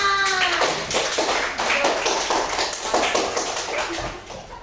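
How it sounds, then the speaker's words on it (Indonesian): Classmates clap after a group presentation in a classroom teaching practice session, a short burst of quick, close hand claps that thins out and fades toward the end. "Ya, tepuk tangan."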